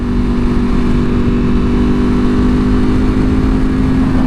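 A V4R motorcycle engine runs with a loud, steady, throbbing drone that stays even and close throughout, without clear rises or drops in pitch. Nobody speaks.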